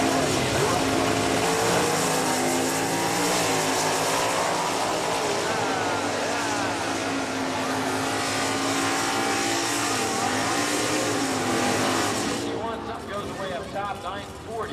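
Mopar muscle cars, Plymouths and Dodges, launching at an NHRA Englishtown drag race, a loud sustained engine roar with rising revs and gear changes, close and continuous before cutting off and fading as the cars pull away.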